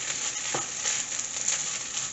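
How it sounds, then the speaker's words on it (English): Seasoned jerk rice fries in a pan, giving a steady, close sizzle with light crackling throughout and no voices. "Just let it fry in there for a little bit."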